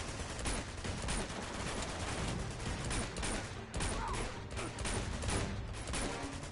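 Rapid, continuous gunfire in Uncharted 2: Among Thieves. A steady dense fusillade of shots runs the whole time at moderate level, with no speech heard.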